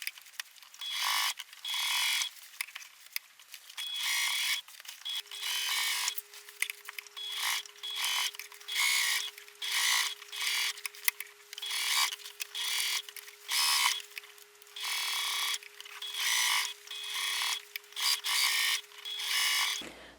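Domestic sewing machine used for ruler quilting, sped up, giving quick bursts of high-pitched whirring stitching that start and stop in an irregular rhythm, close and fairly loud, with no voices.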